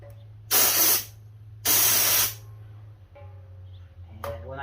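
An air chuck blower on a compressor hose from a Fortress 26-gallon air compressor, heard as two loud bursts of compressed air hissing, then a shorter puff, over a steady low motor hum.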